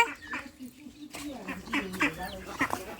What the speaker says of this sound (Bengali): আয় আয় আয় সব হাঁস কই গেলি রে